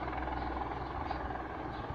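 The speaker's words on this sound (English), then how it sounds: "Look at the police chopper." A hovering police helicopter's steady low rotor drone fills the whole stretch, constant and fairly loud, with engine rumble and no pauses.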